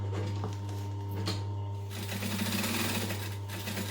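A sewing machine runs slowly, stitching a seam with contrasting thread in a short steady, close mechanical hum and tick.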